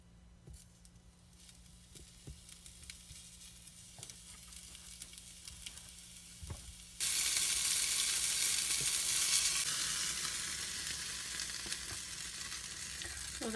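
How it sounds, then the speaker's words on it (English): A sausage patty sizzles and fries on a 6-inch XYY mini skillet, a loud steady crackle that jumps up sharply partway through and continues with faint scraping underneath. "Now to cook sausage on this little skillet"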